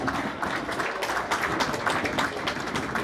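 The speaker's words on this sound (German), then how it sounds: "euer Applaus!" Spectators at an outdoor radio-controlled scale helicopter show applaud after a large BK117 model lands, a moderately distant, continuous patter of many hands clapping at steady loudness.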